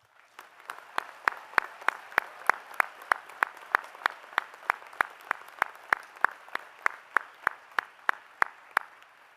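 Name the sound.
applause for graduates at commencement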